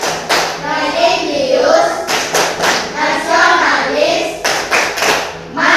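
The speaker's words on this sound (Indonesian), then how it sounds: "sekarang kita melakukan tepuk PPK" A school class performs a rhythmic PPK clap routine, with sharp, close hand claps landing in short, regular bursts between group chanting.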